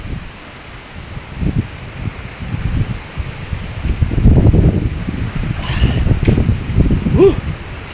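Strong typhoon wind thrashes through leaves in gusty surges, the rustling roar building louder toward the end with buffeting against the microphone.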